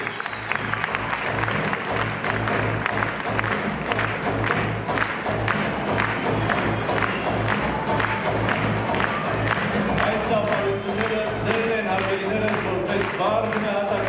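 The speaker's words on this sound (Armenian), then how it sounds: "ձեր բարձր ծափարությունները" A concert audience at a cultural organization's 15th anniversary event breaks into sustained, loud applause with rhythmic clapping and occasional cheers, steady for the whole stretch.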